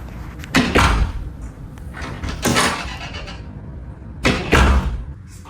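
A house door swinging shut after its hinges were adjusted, giving several soft thuds and broadband knocks spread across a few seconds, fairly close with low room noise and no voices.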